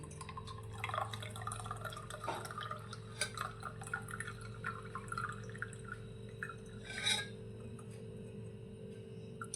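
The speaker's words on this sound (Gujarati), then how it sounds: "હવે આપણે ગ્લાસની ઉપર ગરણી રાખીશું અને બનાવેલા અરડુસીના ઉકાળાને આપણે સારી રીતે ગાળી લઈશું" Steady trickling and dripping of Malabar nut leaf decoction through a strainer into a glass, continuous and close, with faint clinks and a low background hum.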